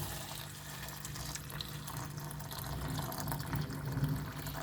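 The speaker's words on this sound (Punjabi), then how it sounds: "ਹੁਣ ਆਪਾਂ ਇਹਦੇ ਵਿੱਚ ਨਾ ਪਾਣੀ ਪਾ ਦਿਆਂਗੇ" Hot water is poured steadily into a large bowl of crumbled soya chunks in a home kitchen, a continuous close splashing pour with no talking.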